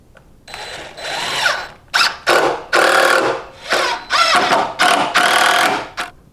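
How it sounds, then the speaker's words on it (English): Power drill boring a hole in an antique wooden coat and bookbag rack, loud close-up bursts of whirring in about eight bursts, with short pauses between them. "There's a hole here and here that I can drill and put my set screw."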